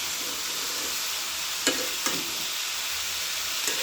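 Potatoes frying steadily in a pan over reduced heat, a constant close sizzle with a few brief clinks of stirring, no talk.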